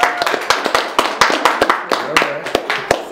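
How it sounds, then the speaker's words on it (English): Audience clapping for a man who just earned a PhD in musicology, with steady, fairly close sharp claps repeating throughout while voices talk underneath. "So we need to applaud him because he just got his PhD."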